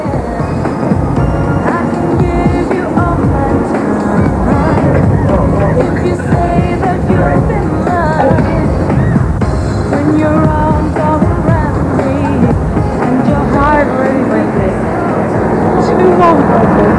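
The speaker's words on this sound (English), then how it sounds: "It means we've got to go in the rickety plane again." Cabin of a rickety small plane carries a loud, continuous engine roar and rumble, with voices talking over the noise throughout.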